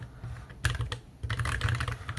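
Rapid bursts of keystrokes from a Keychron K3 Max tri-mode, low-profile, short-travel mechanical keyboard, typed close up with uneven rhythm and soft pauses between flurries, with no voices.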